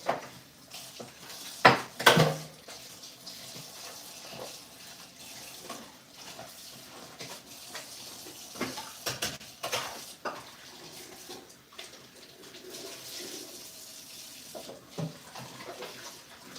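Water runs from a kitchen tap while something is rinsed off during sticky rice cake preparation, with a brief louder splash or clatter near the start and then a steady low trickle.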